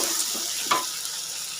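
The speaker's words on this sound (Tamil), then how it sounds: "வெங்காயம் நல்லா ஃப்ரை ஆகிட்டு வருது" Onions fry in oil for a Tamil brinjal gravy, giving a close, continuous hissing sizzle with a brief clink of a utensil partway through.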